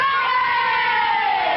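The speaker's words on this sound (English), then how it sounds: "Let's give a great big cheer" Children cheering for Mr. Fox at a school gathering in 1940, a sustained, bright crowd of young voices shouting together without a break, loud and steady throughout.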